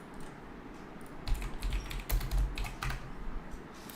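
Keys clatter on a computer keyboard, quiet at first and then quick irregular bursts of close, crisp keystrokes for the last few seconds, with no talking.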